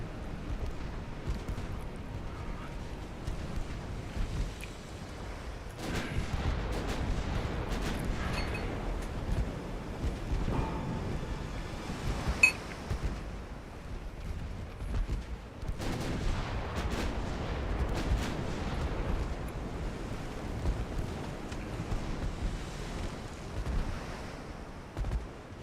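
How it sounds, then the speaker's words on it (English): Repeated heavy booms of naval secondary guns in Ultimate Admiral Dreadnoughts, irregular salvos rolling out over a rumbling sea backdrop, loud bursts recurring throughout with no talk. "I really like all the secondary guns I have on here."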